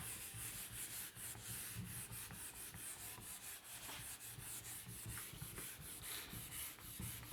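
A board is rubbed clean of writing during a lesson, producing a steady scratchy rubbing that runs continuously for several seconds, close and moderately loud, with no talking.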